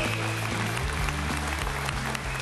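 Studio audience applause on a motorsport talk show, a dense steady burst of clapping with a faint musical tone beneath, lasting a couple of seconds.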